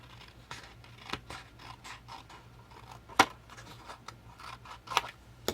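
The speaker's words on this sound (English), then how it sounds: "Now we're going to cut this one out." Scissors cut paper for a mini album page in a quiet, close series of crisp snips and scratchy slices, irregularly spaced with a few sharper clicks, with no speech.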